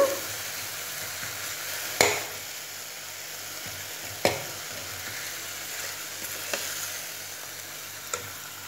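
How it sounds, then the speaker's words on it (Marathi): Fenugreek leaves (methi) sautéing in oil in a pan for dal methi, a steady close sizzle and fry hiss with a few sharp clinks of a spoon against the pan at intervals. "मेथी थोडीशी शिजवून घ्यायची तेलावरती छान परतल्या गेली की शिजल्या जाते छान व्यवस्थित"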